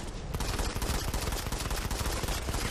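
Sustained assault rifle fire in the mobile shooter Modern Combat 5, a loud, dense stream of rapid shots with overlapping blasts running continuously throughout, no talking.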